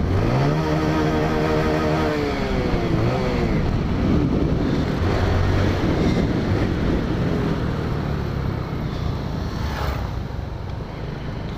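A motorcycle engine revs hard near its rev limiter, its pitch rising and bouncing before settling into a loud, rough, steady roar with wind noise throughout.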